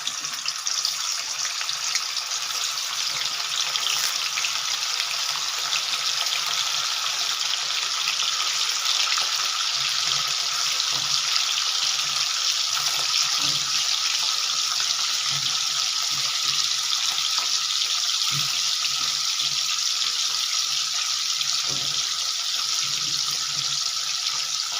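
Cubes of paneer frying in hot oil for a Hyderabadi paneer masala, giving a steady, loud, continuous hiss and sizzle that runs unbroken throughout, with no voices.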